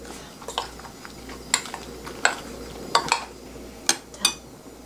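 An egg is beaten in a bowl for zucchini pancakes, a utensil tapping and clinking against the bowl in an irregular run of sharp clicks over a soft background hiss, with no talk.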